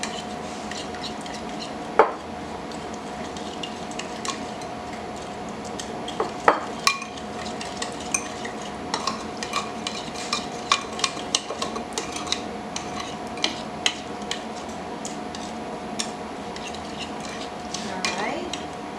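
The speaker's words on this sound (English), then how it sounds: "We're going to get this mixed up." Pumpkin cheesecake filling mixed in a bowl, with steady soft scraping and irregular light clinks and taps of a utensil against the bowl throughout, close and moderately quiet.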